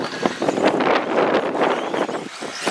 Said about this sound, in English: Huge gust of wind.